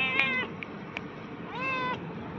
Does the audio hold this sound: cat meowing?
yes